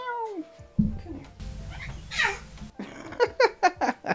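A cat meows several times, rising and falling cries near the start and a rapid run of short meows at the end, with a person's voice between them.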